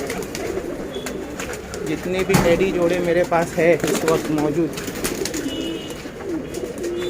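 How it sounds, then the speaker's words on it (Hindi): Pigeons in a breeding loft in Mumbai coo in repeated soft, throaty warbles, close by and overlapping, while someone talks over them. "तो ये है सब कबूतर"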